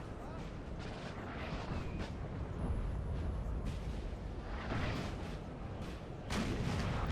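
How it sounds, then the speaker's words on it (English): Artillery fire in the Napoleon Total War game, set at the 1814 Montmirail battle: a series of booming blasts and crackling impacts over a dense battle din, with a voice talking through it. "Nice artillery hit there."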